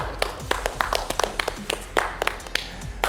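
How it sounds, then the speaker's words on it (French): Studio audience applauding on a French television talk show set, scattered sharp claps in an uneven rhythm over a low steady hum, close and moderately loud with no voices. "applaudissons"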